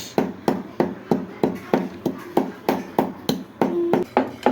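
A mix of black and white peppercorns is pounded by hand, giving a steady series of about fifteen sharp, evenly spaced knocks, close and fairly loud, with no talking.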